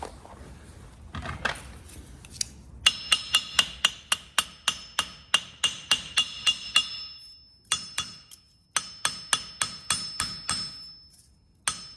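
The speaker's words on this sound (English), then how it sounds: "hammering on copper that's already been heated to soften it will help harden it back up again" Heated copper for an arrow is flattened with a hammer in a run of sharp, ringing metallic strikes at a steady, brisk rhythm, close and loud, with a few short pauses between bursts.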